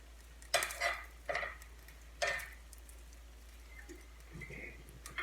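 A straight spatula scraping across a curved pan while searing a smoked ribeye roast: four or five short, rasping scrape strokes near the start, then quieter fainter scratching, close and with no talk.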